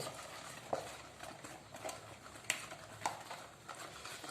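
A whisk beats sugar and eggs into batter for orange basbousa, giving soft, irregular tapping and scraping strokes against the bowl, quiet and close.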